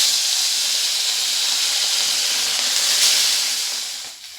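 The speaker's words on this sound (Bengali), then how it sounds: "একটা করে তেলের মধ্যে দিয়ে ভেজে নেব" Fish, sarputi, frying in hot oil in a wok, a steady broad hiss of sizzling oil, close and constant, fading slightly at the end.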